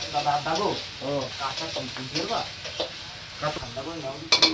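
Hot oil sizzles steadily with cumin seeds in a wok while people talk over it, with a metallic clink near the end.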